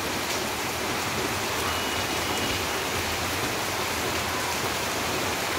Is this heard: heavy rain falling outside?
yes